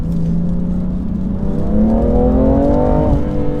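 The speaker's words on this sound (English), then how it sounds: "When you lift off, you get this nice like crack from the exhaust." A loud, close 2018 BMW M3 Competition engine burbles and rises in pitch as it revs, then drops off as the throttle lifts, with an exhaust crack on lift-off.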